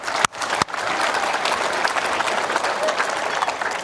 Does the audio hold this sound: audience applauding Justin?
yes